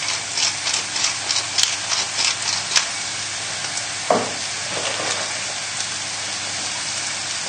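Carrots with garlic sizzle steadily in a hot pan, a constant frying hiss punctuated by a series of clattering shakes of the pan and one louder knock partway through.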